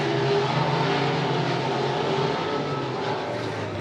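Race cars roaring through a heat race at Monett Motor Speedway, a dense, continuous engine drone from the pack at steady loudness with no voices heard.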